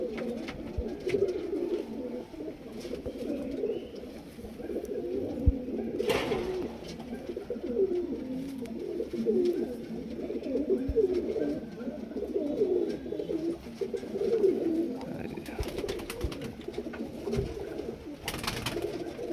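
High flyer pigeons of an old generation coo steadily in a continuous low, rolling chorus close at hand, with occasional sharp knocks and no speech.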